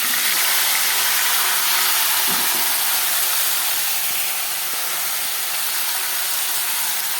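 Chopped vegetables hit hot oil in a wok, raising a loud, steady broadband hiss of sizzling that stays even and close throughout with no voices.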